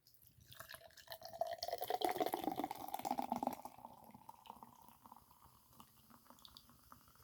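Nitro Pepsi Vanilla Draft Cola pours from a can into a glass with a faint, soft liquid rush that builds and then thins into quiet fizzing and occasional drips.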